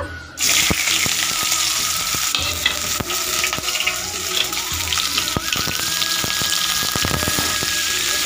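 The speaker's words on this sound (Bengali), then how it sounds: "আর পেঁয়াজ রসুন থেতো করা, দেখতে পাচ্ছ, এটা আমি ভেজে নেব।" Crushed onion and garlic hit a hot wok and sizzle loudly and continuously, with repeated clicks and scrapes of stirring close by.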